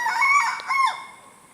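A jungle fowl rooster crows on a farm, giving one close, loud, shrill call that ends in a falling tail. No one speaks.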